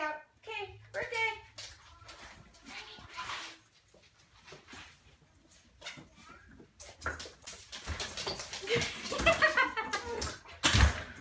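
A puppy whimpering and yipping in a lively family setting, short high whines scattered through the clip amid children's and adults' chatter, with louder bursts near the end.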